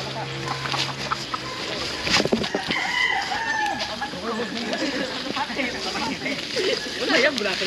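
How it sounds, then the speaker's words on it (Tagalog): Chickens cluck and squawk nearby amid busy outdoor noise, with people talking over the fowl sounds throughout. "may manok dito"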